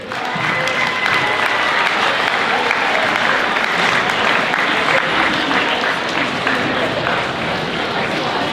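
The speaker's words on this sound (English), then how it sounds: "another huge round of applause" A large audience at a high school student recognition assembly claps loudly and continuously, a dense wall of applause with some crowd noise mixed in, sustained at full volume.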